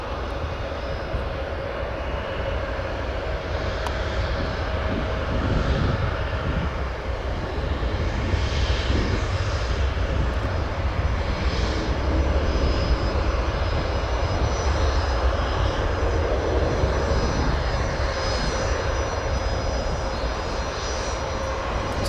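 An Airbus A320 airliner's engines hold a steady, broad roar at O'Hare Airport, continuous and fairly loud throughout with no talk.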